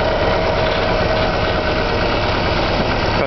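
A 1962 Willys CJ5 jeep engine with points and condenser ignition idles just after start-up, a steady close rumbling drone with an even, slightly knocking pulse and no voices.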